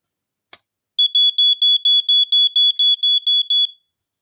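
A vintage smoke alarm gives a single short chirp, then a fast pulse of about a dozen shrill, piercing beeps in quick even rhythm, close and loud, before stopping.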